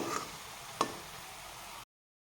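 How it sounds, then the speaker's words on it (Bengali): Lobongo lotika pitha fries on low to medium heat with a quiet, even sizzle and one small tap, then cuts off after under two seconds. "এইখানে আমি একদম লো টু মিডিয়াম করে ভাজতে হবে"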